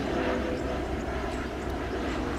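Bombardier Challenger 605 business jet at Noi Bai airport, heard as a steady, loud engine roar with broadband jet noise that holds constant throughout, no voices over it.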